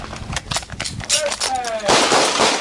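Handgun shots fired one-handed at a target in a combatives drill, several sharp close reports in quick succession over about three seconds, mixed with shouted commands.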